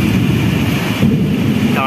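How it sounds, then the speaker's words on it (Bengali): Heavy rain pours during a thunderstorm, a loud, steady, low-heavy roar with rumbling throughout the whole short stretch. "আর বৃষ্টি খুব জোর হচ্ছে, আর বিদ্যুৎও চমকাচ্ছে"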